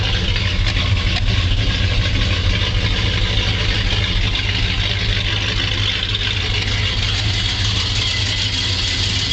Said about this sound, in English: you can listen to the motor while it's running